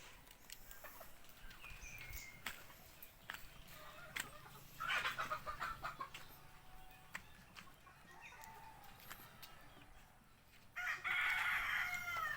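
Backyard gamefowl rooster crows several times, loud and close, with clucking and other birds around it and no talk.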